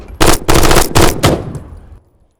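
Soldiers fire weapons in three loud, close automatic bursts from the Intervention combat sound effects library by SoundMorph. The bursts come in quick succession, and a short fading tail follows the last one.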